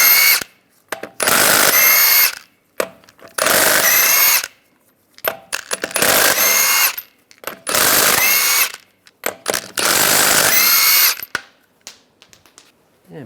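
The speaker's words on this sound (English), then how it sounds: "take these lug nuts off" Power tool with a 22mm socket spinning lug nuts off the front wheel of a 2007-2013 Chevrolet Silverado 1500 truck, loud close whirring bursts repeated about five times, separated by short pauses with light clinks and rattles.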